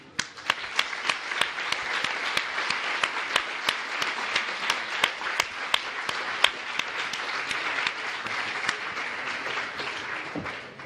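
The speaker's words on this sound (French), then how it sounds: "please join me in thanking and applauding both speakers today" A lecture audience at Sciences Po breaks into sustained applause for two speakers, dense clapping with sharp individual claps standing out, steady throughout.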